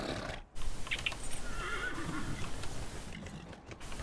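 A horse whinnies in Dragon Age Inquisition, a short shrill neigh standing out over a faint game ambience, with hooves clip-clopping softly beneath.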